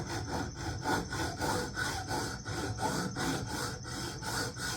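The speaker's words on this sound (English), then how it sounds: "It's an old Milwaukee hacksaw. This is aluminum, so it should be pretty easy to cut." An old Milwaukee hacksaw cuts through aluminum in steady, rhythmic back-and-forth strokes, each rasping pass loud and close, with no talking.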